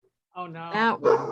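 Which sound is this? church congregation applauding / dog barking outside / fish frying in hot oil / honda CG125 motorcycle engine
dog barking outside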